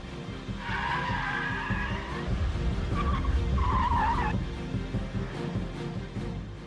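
A Honda NSX Type R slides with tires squealing in two long skids over a steady engine roar, heard at moderate distance.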